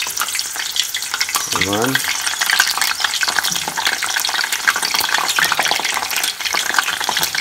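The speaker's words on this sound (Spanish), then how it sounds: "Tengan mucho cuidado porque sartea mucho aceite." Jalapeños sizzle and crackle as they fry in a pan of hot oil, a loud, steady frying hiss with a brief splash of stirring early on and a few short words spoken over it.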